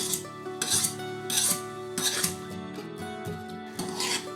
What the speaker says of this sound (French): ensuite je vais venir couper l'excédent avec un couteau